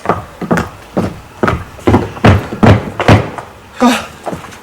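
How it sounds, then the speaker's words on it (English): Someone knocks on a door in an amateur stage production of Macbeth: about ten loud, heavy wooden thuds close by, in an uneven rhythm with short pauses between groups. "Whence is that knocking?"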